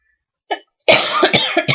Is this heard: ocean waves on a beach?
no